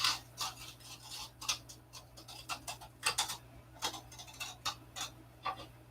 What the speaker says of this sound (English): All you do is take your knife and kind of cut them out of there.